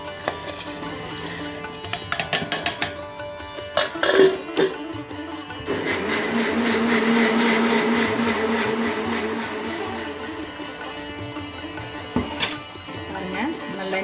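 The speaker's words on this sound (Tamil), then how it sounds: "மசாலா எல்லாமே அரைச்சி எடுத்துக்கணும். மிக்ஸி ஜாரில் எல்லாத்தையுமே சேர்த்துக்கணும்." After some clattering and knocks, a mixer grinder whirs steadily for several seconds grinding masala into paste for kurma, then stops and a few more clinks follow.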